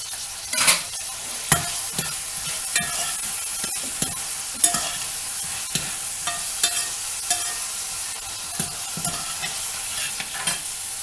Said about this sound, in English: That was a half an onion, now we're going to put a half a green pepper.